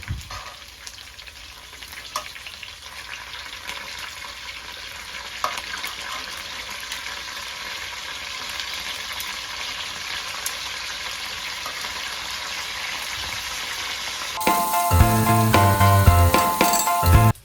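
Pork steak sizzles loudly and steadily in a hot oily pan, a continuous frying hiss with faint clinks, swelling into a louder burst of crackling near the end as the meat is flipped.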